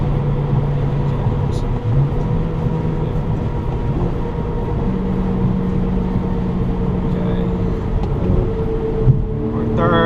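A tuned BMW 335i accelerates hard in third gear at about 20 pounds of boost. The engine roars loud and steady from inside the car, with continuous road and drivetrain noise throughout.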